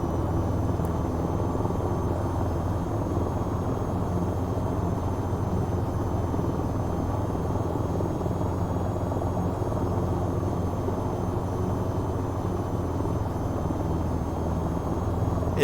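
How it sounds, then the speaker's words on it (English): A helicopter flying low in a VR flight game: a continuous, loud, steady rotor and engine drone that holds unchanged throughout, with no talking. "don't get distracted flying so low in a helicopter"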